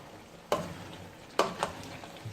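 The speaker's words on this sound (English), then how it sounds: "Just give this a bit of a stir up." Stirring rendering lamb tallow in a pot over low heat: a few sharp scraping clicks of a utensil against the pot over a soft, steady sizzle, close and alone.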